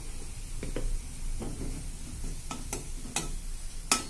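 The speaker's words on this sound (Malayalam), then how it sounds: "നമ്മുടെ ഉള്ളി നല്ലതുപോലെ മൂത്തിട്ട് അതിലേക്ക് ഒരു 1 ചെറിയ സ്പൂൺ ഗരം മസാല ചേർത്ത് കൊടുക്കുക." Browned onions with a spoonful of garam masala fry in a pan for a snake gourd curry, giving a steady close sizzle broken by a few sharp scrapes of a stirring spoon.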